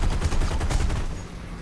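Gunfire in the War Thunder tank game comes as a brief, dense rattling burst of shots that holds steady and then tails off quickly.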